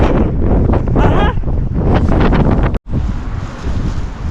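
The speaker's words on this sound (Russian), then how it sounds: "Там сильный ветер." Strong, cold wind buffets a microphone outdoors in loud, continuous gusting rumble, broken by a brief dropout near the end, with faint talk mixed into the roar.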